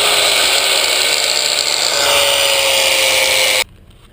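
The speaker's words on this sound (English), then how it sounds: "Now I'm going to put on my safety glasses and cut off the top part of this shock" A power tool cuts through the top of an old front shock absorber and its nut on a 2001 Ford Ranger, giving a loud, steady, high-pitched grinding whine that runs without a break for several seconds, then stops abruptly.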